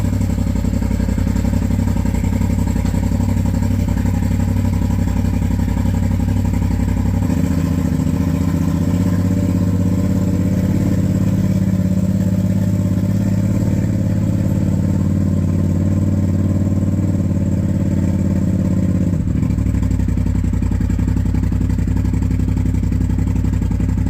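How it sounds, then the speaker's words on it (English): A CFMoto engine cold-starts with its E-valve exhaust open, settling into a steady, loud idle with a constant low rumble for over twenty seconds, then cutting off near the end. "let's get a good cold start with the E-valve exhaust open"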